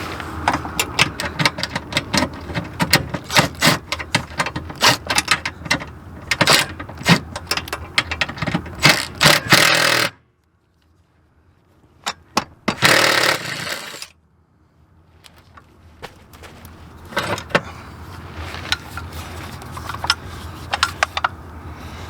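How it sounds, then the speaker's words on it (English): An impact wrench fitted with a short extension, a 1/4-inch adapter and a 3/8 socket rattles out rapid, loud hammering bursts while removing bolts, broken by a short quiet gap before it resumes more softly. "Go in the impact, a short extension, a 3/8 socket."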